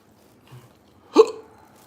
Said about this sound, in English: They call him the hiccups.